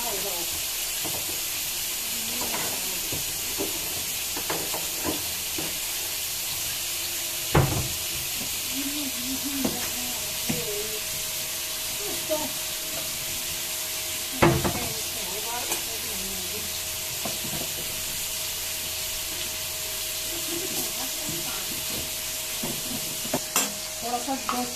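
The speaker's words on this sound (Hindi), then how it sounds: "अच्छी तरह से इसको भुनाई करनी है, खूब अच्छी तरह से भुन जाएगा दोस्तों" Chicken masala roasting in a kadhai for kadhai chicken biryani, a long steady hiss of frying with intermittent stirring scrapes and a couple of louder knocks against the pan.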